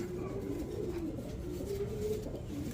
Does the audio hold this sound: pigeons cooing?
yes